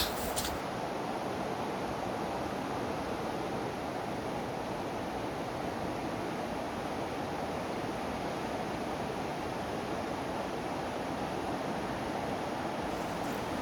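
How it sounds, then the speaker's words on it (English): River water charging through a weir at the old Harvington Mill, a dense, steady roar of rushing water heard close and continuous, with no voices. "See the water's charging through there on its way to the sea"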